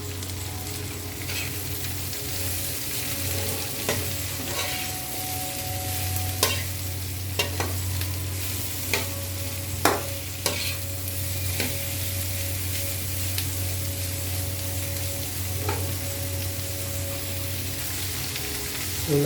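Vegetables stir-fry in a hot pan with a steady, close sizzle, broken by a few sharp clinks and scrapes of a utensil against the pan, and no voices.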